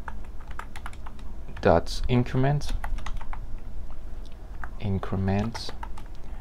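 Quick clatter of keys on a computer keyboard as smart contract code is typed, a steady run of light clicks throughout, close and fairly soft, under someone talking.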